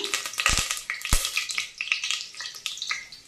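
Whole garam masala spices, among them cinnamon, cardamom and cloves, dropped into hot oil for chicken dum biryani: a steady crackling sizzle with a few sharp pops and stirring scrapes, close and without talk.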